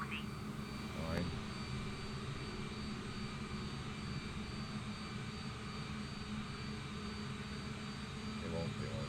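Jet airliner taxiing in Microsoft Flight Simulator: a steady, broad engine drone that holds level throughout, with faint voices and radio chatter underneath.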